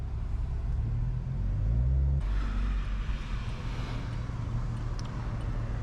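A BMW M340i with the B58 engine drives at night through Midtown Miami, its low, steady engine drone rumbling close by. The tone shifts partway through into a broader, rougher roar. No one speaks.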